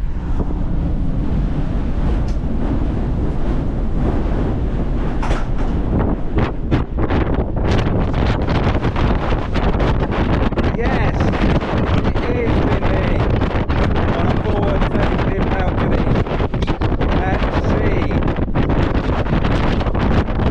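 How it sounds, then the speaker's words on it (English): Strong, steady wind buffets the microphone on a forward-facing cruise ship balcony at sea, with a low roar of sea and waves underneath and no talking. "Is it windy on a forward-facing balcony at sea?"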